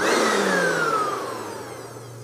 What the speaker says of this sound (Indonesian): Setelah switch kita sambung kembali, blender kembali normal ya.